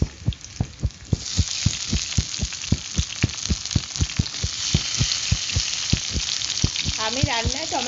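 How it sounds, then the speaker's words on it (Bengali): Onions and chopped tomato frying in a pan for a fish curry. A bright continuous sizzle sits under a regular rhythmic knocking of a spoon against the pan, and a voice briefly joins near the end. "এখন আমি পেঁয়াজ, তো দেখো পেঁয়াজটা ভাজছি।"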